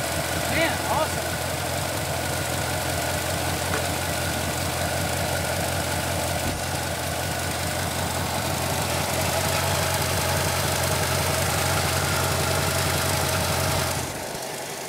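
1989 Chevy S10 engine, revived after sitting 22 years, idling steadily with a low, even rumble and faint ticking knock, close and continuous for most of the clip before dropping off at the end.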